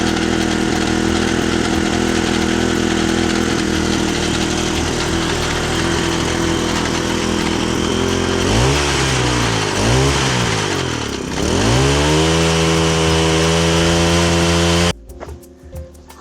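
The small petrol engine of a farm tiller runs steadily and loudly, its pitch dipping and rising through revs in the middle, then cuts off abruptly near the end.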